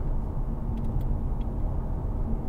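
A 2015 Mercedes-Benz C-Class engine in sport mode gives a steady low rumble from inside the cabin, with a constant drone and no clear rise in revs over a few seconds.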